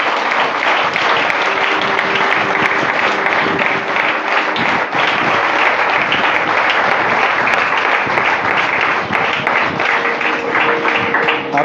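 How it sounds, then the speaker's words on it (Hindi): A church congregation at a Sunday service claps loudly and continuously, with a dense, even patter of many hands that keeps going from start to finish. "आइए एक जोरदार ताली सिर्फ प्रभु यीशु मसीह के लिए।"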